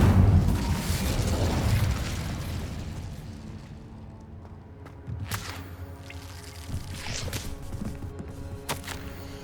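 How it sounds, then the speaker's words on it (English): Incendio fire spell cast in Hogwarts Legacy, a loud booming whoosh of flame that swells and slowly fades, followed by scattered light pops and crackles. "Incendio."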